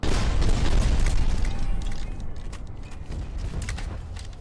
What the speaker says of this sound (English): These guns have an incredibly quick fire rate, and with just a few volleys can absolutely level a relic base.